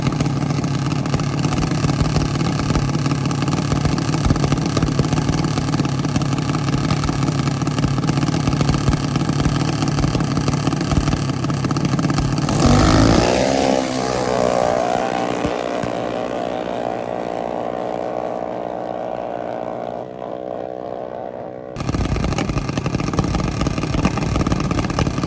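Small tire motorcycles racing at Penwell, loud buzzing engines revving hard close by and continuously, with a shift in pitch partway through as bikes pass and fade before the roar returns.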